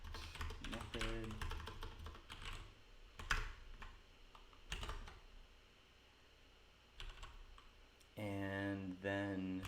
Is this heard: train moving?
no